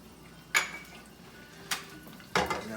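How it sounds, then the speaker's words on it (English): Garlic is tipped into a hot pan for soup, giving three sharp metallic clinks of utensil against pan, close and distinct, separated by quiet gaps. "we're going to actually go ahead and dump the garlic in there"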